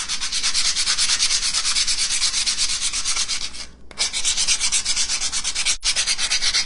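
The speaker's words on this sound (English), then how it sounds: "let's see what happens if I sand it" Sandpaper rubbing over a layered crackle paint finish in steady, loud back-and-forth strokes, close up, with two brief pauses and no talking.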